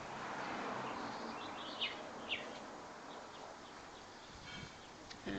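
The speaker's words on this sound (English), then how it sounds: "you can hear the birds in the distance" Birds chirp faintly and far off in a quiet garden in Grenada, a few short scattered calls rising over soft steady background hiss.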